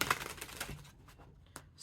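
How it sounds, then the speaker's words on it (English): A new tarot deck of thick, slippery cardstock is shuffled, giving quiet, close flutters and light clicking card taps with short pauses between them. "I'm just going to shuffle these."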